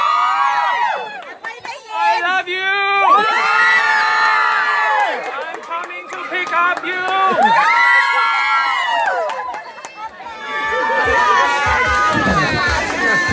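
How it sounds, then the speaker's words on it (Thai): A wedding crowd at a school in Pakchong, Thailand, shouts and cheers loudly for the bride in rhythmic bursts, with whoops and chatter between the rounds of yelling, up close and lively. "ขอให้ตะโกนนะ ตะโกนจังหวะเจ้าสาวจะได้ยินนะครับ"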